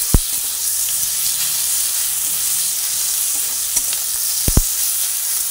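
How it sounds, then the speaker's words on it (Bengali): Ridge gourd pieces frying in oil with Kashmiri chili powder for malaikari, a steady close sizzle with a few sharp clicks of a spoon stirring against the pan. "আবার একটু ভাজা হোক"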